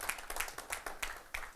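An audience at a university lecture claps in a short, even rhythm of about six distinct beats, fairly quiet and brief.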